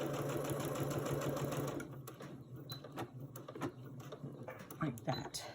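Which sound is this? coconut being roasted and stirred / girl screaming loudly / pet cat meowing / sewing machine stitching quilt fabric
sewing machine stitching quilt fabric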